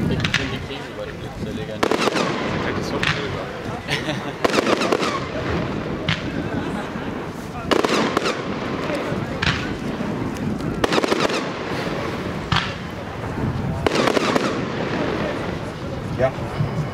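A 25-shot, 30 mm firework cake fires a rapid string of sharp bangs and crackles, with bright bursts recurring every second or two over a steady roar, loud and outdoors.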